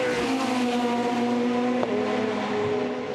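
A Chevrolet touring car at the 2007 World Touring Car Championship race in Pau strains uphill with a loud, steady engine drone that holds one pitch and comes up close, with a brief sharp bump near the end.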